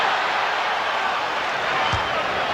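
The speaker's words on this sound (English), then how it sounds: "Crowd reacting to the block by Buck Williams" Arena crowd at a 1997 Bulls–Knicks NBA game reacting to a blocked shot by Buck Williams, a steady broad roar with a brief thump near the end.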